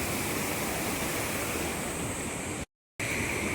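A river flowing makes a steady, loud broadband rush that fills the whole clip, cut by a brief silent gap near the end.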